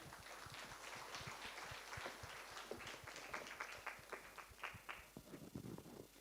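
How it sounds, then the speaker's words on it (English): An audience at a biomass and circularity conference applauds a panel, a faint, fairly sparse patter of claps with individual hand strikes audible, building slightly toward the end. "one more random applause for our panel, please"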